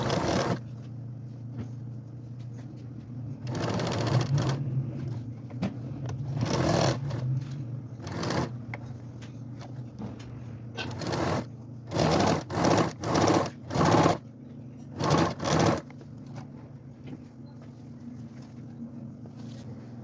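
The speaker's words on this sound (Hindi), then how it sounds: "तो अब इसको सिलाई कर लेंगे आधे इंच की दूरी से।" A sewing machine stitches the side seam of DIY men's shorts in repeated short bursts, its whirring runs stopping and starting and growing quicker and choppier toward the end, quiet and close with no talking.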